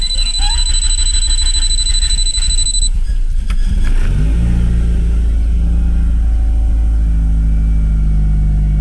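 A Mitsubishi Galant VR4 engine cranks and starts after a tuning job with its stock injectors back in, while a steady chime sounds at first; the engine then settles into a loud, close, rough idle with slight revving.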